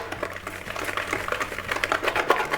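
A hand whisk beating bath bomb mixture in a bowl makes rapid, rhythmic scraping and tapping strokes, close and continuous.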